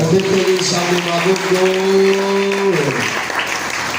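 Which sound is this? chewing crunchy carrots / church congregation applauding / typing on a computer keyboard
church congregation applauding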